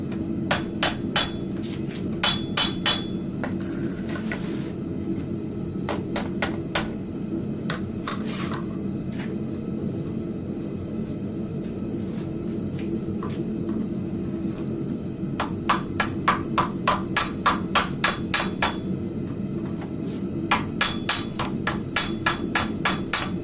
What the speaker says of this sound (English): Just doing light taps, pretty well on the same spot of my anvil.